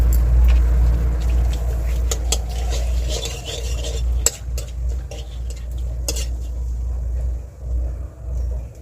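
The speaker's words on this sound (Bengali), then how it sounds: "তেল গরম হয়ে গিয়েছে, এবার আমি 4টে তেজপাতা দিয়ে দেবো।" Four bay leaves dropped into hot oil in a pan while cooking a Bengali gugli (snail) curry, giving a steady close sizzle with occasional sharp clinks of a utensil against the pan.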